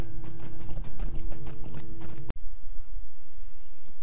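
Hooves of a festival horse clip-clop in a quick, steady rhythm at a stable in the Lord of the Rings Online game, the sound close and clear before cutting off abruptly into quiet ambience.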